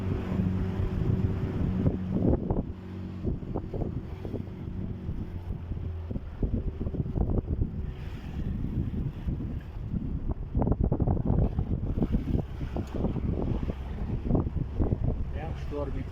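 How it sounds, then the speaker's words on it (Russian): Strong wind blasts across the microphone on the Volga River in September, gusty rumbling buffeting that runs throughout in stormy weather, with someone talking over it. "Ветер начался хороший."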